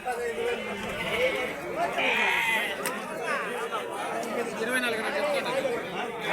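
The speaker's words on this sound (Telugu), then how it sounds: "గొర్రెలు పిల్లలు, మేకపోతులు పిల్లలు, గొర్రెలు ఇదే చాలా ఉంటాయండి." Sheep and goats, ewes, kids and lambs, bleat repeatedly at a busy Angallu livestock market in Gudur, Nellore, mixed with steady crowd chatter and talk throughout.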